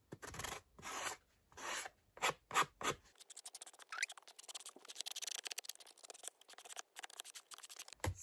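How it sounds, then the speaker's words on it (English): Dry, raspy strokes of a sanding block on paper, first in a few slower passes and then in a quick run of short scratching rubs, close and quiet. "We'll do a sanding block"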